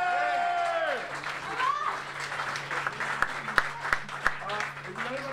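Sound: audience applause for the alto saxophonist at a jazz concert

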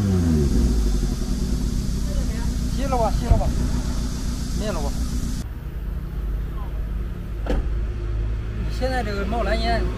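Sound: car engine revving as throttle is pressed during repair check

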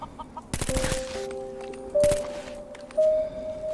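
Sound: chickens clucking in video game Fallout 4

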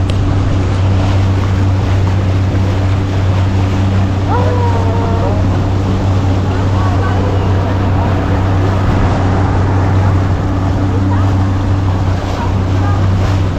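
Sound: water taxi boat on water

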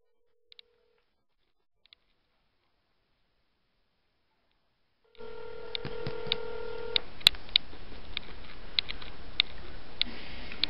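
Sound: telephone number being dialed for a prank call

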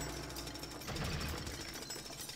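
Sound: jackhammer in the video game Lego City Undercover

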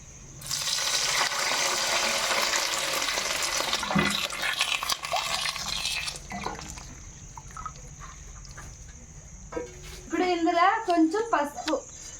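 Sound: water poured into a pot of rice and lentils

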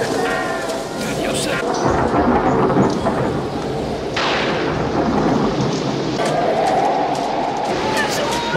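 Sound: sudden thunderstorm with rain, film scene

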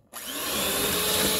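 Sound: grinding pineapple for homemade ice cream

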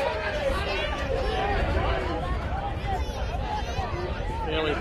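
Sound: crowd chatter at a country Australian football match

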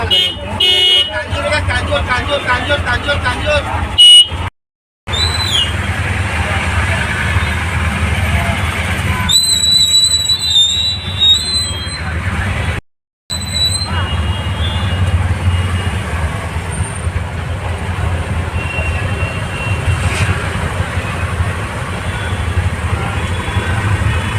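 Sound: road traffic near a crowded exam centre in Mumbai

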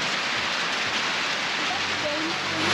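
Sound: heavy pouring rain on a street in Yaoundé, Cameroon

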